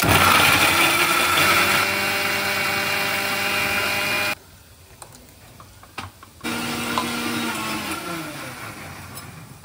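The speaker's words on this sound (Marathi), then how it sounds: "मिक्सरला पेस्ट करून घेणार आहोत मस्त" A mixer grinder blending deseeded tomatoes into paste gives a steady, loud whirring motor drone. It cuts out briefly for about two seconds, then starts running again.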